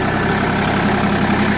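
An Iseki TU185 compact tractor engine idles steadily at close range, a continuous low, even chug with faint knocking texture and no voices over it.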